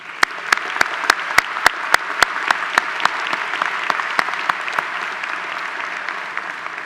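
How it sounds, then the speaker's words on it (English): A graduation recognition ceremony audience applauds MBA awardees, a steady wash of clapping with sharp individual claps standing out close by, holding at an even level throughout. "Will you please join me in giving our MBA awardees one additional round of applause?"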